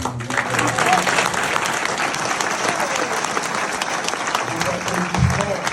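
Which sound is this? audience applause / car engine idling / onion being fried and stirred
audience applause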